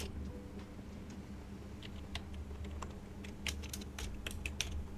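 A computer keyboard types out a web address, a quick patter of light clicking keystrokes in short bursts that grows busier toward the end, close by and fairly quiet, with no talking.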